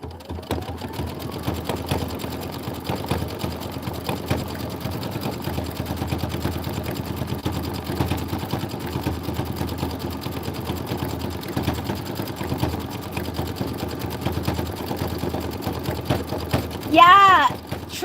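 A home sewing machine stitches a decorative outline on a Kimberbell Home Sewn tiling scene. It gives a continuous close hum with a rapid needle patter, and a brief whirring whine comes near the end.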